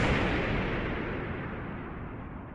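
A deep, rumbling explosion effect standing for the Big Bang, loud from the start with a broad roar that slowly fades over a couple of seconds, no voices.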